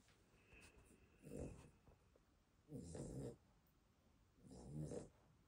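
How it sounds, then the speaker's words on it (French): A sleeping small dog, a Cavalier King Charles or Chihuahua, snores at night in three slow, separate breaths, each a rough, rattling rasp that swells and fades, close and fairly quiet against a still room. "Tasha a fait beaucoup de bruit quand elle ronfle."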